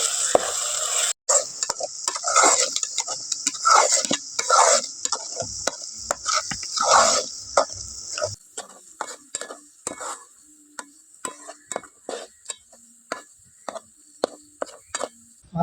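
Masala spices frying in a pan for dhaba-style egg curry, stirred with a spoon: sizzling under repeated scraping strokes, then the sizzle stops and scattered spoon clinks and taps continue.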